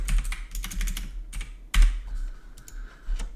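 Rapid typing on a computer keyboard, a close, steady run of clicking keystrokes with a couple of louder key presses and brief pauses.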